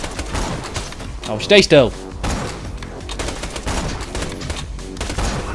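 Sniper rifle fire in the video game Borderlands 2, with a sharp burst of shots in the middle and softer gunfire sounds around it, under someone talking.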